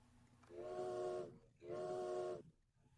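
A train arriving at a station sounds two long, loud horn or whistle blasts with a short gap between them, over a faint background rumble.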